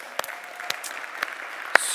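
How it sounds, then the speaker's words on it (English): A crowd applauds with a soft, steady patter of clapping, a few sharper claps standing out, heard from some distance. "big round of applause for them."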